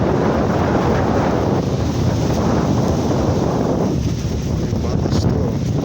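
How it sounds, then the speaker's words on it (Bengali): Strong wind rushes over the microphone beside a river, a loud, steady buffeting roar with low rumbling gusts and no clear speech. "অনেক বাতাস তো"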